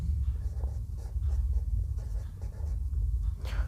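A marker or chalk scratches out a math solution on a classroom board in short strokes and taps, close and steady with brief pauses between marks, no talk over it.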